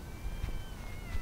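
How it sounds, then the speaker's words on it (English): A cat meows faintly in a garden, two short soft calls over a quiet outdoor background. "There's all these cute little cats."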